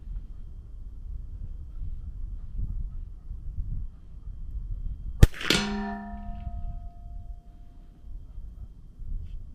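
A single .22LR shot from a Zermatt RimX rifle with an 18.5-inch barrel in an Element 4.0 chassis strikes a steel target, giving a sharp clang that rings out for about a second over quiet outdoor air.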